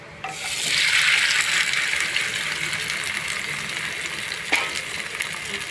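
Chopped tomatoes for a tomato chutney fry in a pan, a steady, fairly loud sizzle that swells just after the start and holds throughout, with a brief clatter near the end.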